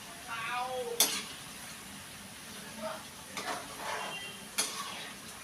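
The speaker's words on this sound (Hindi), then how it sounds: "मैं उसके लिए कर रही हूँ यहाँ पे आलू फ्राई" Potatoes fry in a pan late at night at home, a faint sizzle under scattered stirring and a couple of sharp clinks of utensil on pan, with someone talking over it.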